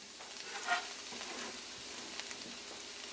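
Garlic hits hot vegetable oil and sizzles steadily, a close, even hiss with a small burst of crackle near the start as it goes in, then a constant bright fizz throughout.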